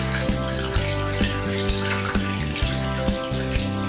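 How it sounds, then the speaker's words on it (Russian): Cooled brine poured from above into a pot holding salted herring, a steady close pouring and splashing of liquid that runs through the whole stretch with a few louder knocks and surges. "Рассол остыл, теперь мы заливаем."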